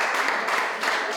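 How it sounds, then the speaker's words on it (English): Spontaneous applause from a small audience at a sixteenth birthday party after a magic trick, a brief dense patter of clapping close by. "spontaneous applause"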